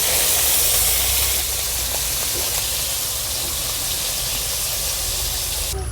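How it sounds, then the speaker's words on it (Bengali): Koi fish sizzling in hot oil in a wok, a loud steady hiss and crackle that starts strong and settles into an even, continuous frying sound. "তত তেলের মধ্যে মাছটা ছেড়ে দিই। এরকম করে আমি সব মাছ দিয়ে দিতেছি।"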